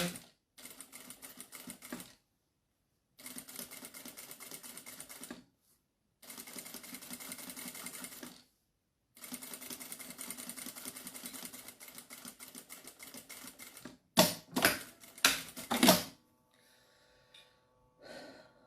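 Stitching fabric on a sewing machine, with bursts of rapid mechanical whirring and needle clatter separated by brief pauses, then a few louder clicks and handling knocks near the end.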